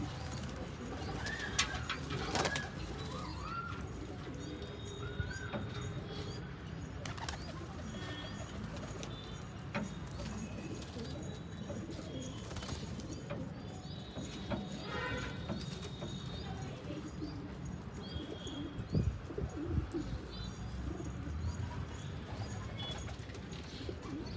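Pigeons coo in a loft or coop among a pigeon keeper's flock, soft repeated calls mixed with steady background bustle, occasional shuffling and light clattering throughout.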